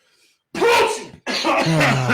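One loud, abrupt sneeze after a brief silence, followed immediately by a voiced, drawn-out vocal sound trailing off.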